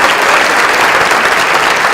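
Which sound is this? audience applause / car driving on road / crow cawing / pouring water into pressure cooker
audience applause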